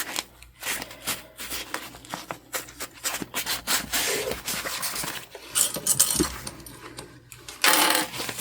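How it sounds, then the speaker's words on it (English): A sewing machine top stitches canvas on a bum bag in irregular short bursts, rattling clatter broken by pauses and handling rubs and clicks, close and fairly loud. "we'll go ahead and top stitch this down"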